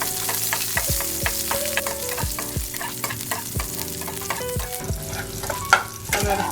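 Finely chopped shallots frying in hot oil, a constant crackling sizzle broken by regular scraping knocks of a spoon on the pan, close and fairly loud, with no voices.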